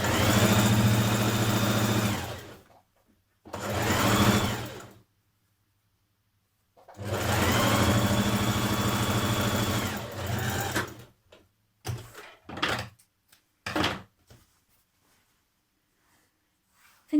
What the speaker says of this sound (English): from this notch you're going to sew that centre back seam down to the bottom